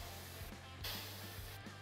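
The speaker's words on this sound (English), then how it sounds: "I'm gonna spray down." An airbrush sprays paint onto a custom fishing lure in short, close hissing bursts over a steady low hum.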